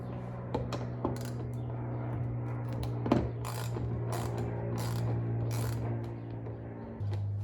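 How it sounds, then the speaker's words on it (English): Bolts being undone beneath the bumper of a 2017 Honda Civic hatchback, giving intermittent ratchet clicks and small metallic taps close by over a constant low mechanical hum, without any talking. "So, gotta take off the 2 bolts that are underneath the bumper."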